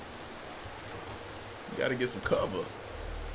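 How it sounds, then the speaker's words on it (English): Steady rain falling in the survival game Empyrion Galactic Survival, a constant soft hiss throughout, with a person talking over it in the middle. "Oh, it's raining now."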